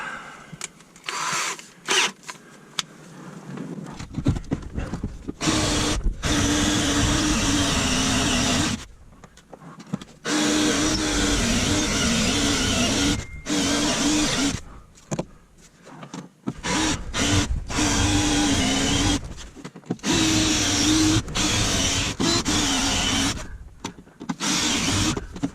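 Power cutter drilling out spot welds on a car body during a 2G DSM AWD swap, a loud close whirring grind in long bursts separated by brief pauses.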